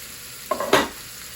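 Pot roast beef sears in a pan with a low background sizzle that flares into a brief loud hiss and clatter as the meat is moved, then settles back.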